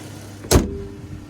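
One heavy, solid slam of the hood of a 2013 Chrysler 300 with a V8 Hemi closing nearby, followed by a faint lingering ring and quiet hum.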